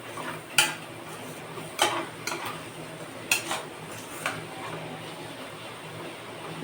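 Vegetables for chicken fried rice sauté in oil in a pan, a soft sizzle broken by a few sharp clinks of a spatula stirring against the metal.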